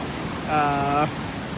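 Fast, high river water flows at Narampanava in a steady broadband rush throughout, with a brief tonal voice rising over it midway.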